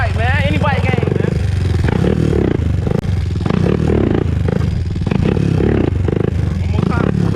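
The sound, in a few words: 2001 Honda TRX400EX ATV engine riding around corners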